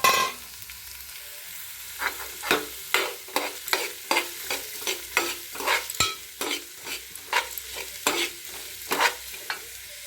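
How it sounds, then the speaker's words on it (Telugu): Onions and green chilies fry in a pan as the base for a fish curry, with steady sizzling broken by a regular series of sharp stirring scrapes and clacks, close and moderately loud with no talk. "ఆనియన్స్, మిర్చి వేసుకొని ఫ్రై చేసుకోవాలి"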